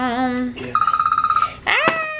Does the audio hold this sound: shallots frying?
no